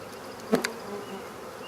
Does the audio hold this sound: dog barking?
no